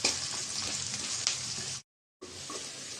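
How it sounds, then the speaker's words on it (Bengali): Chopped onion and green chili fry in hot oil with a steady, bright sizzle and occasional stirring scrapes, near and moderately loud, broken by a short gap of silence before the frying sound returns. "পেঁয়াজটা হালকা করে ভেজে নেব।"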